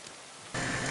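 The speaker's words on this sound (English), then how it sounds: "It'd be better if it wasn't raining." Steady rainfall in the medieval video game Kingdom Come: Deliverance II, a soft hiss that suddenly swells into a louder, dense wash of rain midway through.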